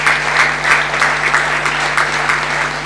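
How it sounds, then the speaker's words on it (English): An audience at an international conference gives a loud, steady round of applause for the trustees, dense clapping that continues evenly from start to finish over a constant low electrical hum. "Let me request the audience to give a big round of applause to all our beloved trustees."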